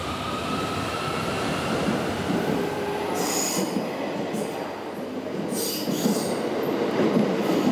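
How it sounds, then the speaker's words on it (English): A Thunderbird Japanese limited express train runs close by on a narrow-gauge line, a continuous loud rumble of wheels on rails with high metallic squeals rising over it in bursts. No voices. "there are still many limited express trains running on the smaller gauge routes"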